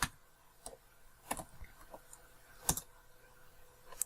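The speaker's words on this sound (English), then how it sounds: "you type in user mod -G and username," Sparse keystrokes on a computer keyboard as a Linux usermod command is typed, a handful of separate clicks spaced irregularly, close and fairly quiet, with no talking.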